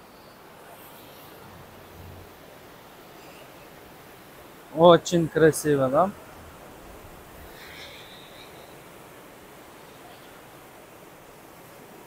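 Cold mountain river water rushes steadily along a pass road between Khujand and Dushanbe in Tajikistan, a constant broadband roar, with a brief burst of talk near the middle.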